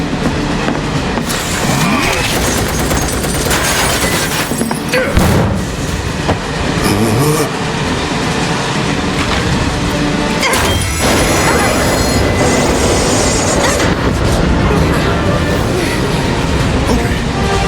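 A moving train in the video game Final Fantasy VII Remake rattles and clatters loudly throughout, with crashing metallic impacts and continuous rolling rumble, dense and close.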